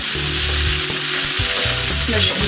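Onions and vegetables sizzle loudly in a pan while being stirred, a dense steady crackle close by, broken by a few low scraping and clunking sounds from the stirring, with no voices.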